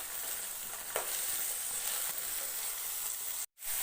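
Chopped green beans stirred and sautéed in a pan for veg noodles, a steady soft sizzle with a brief utensil scrape, fairly faint and alone, cut by a short gap near the end.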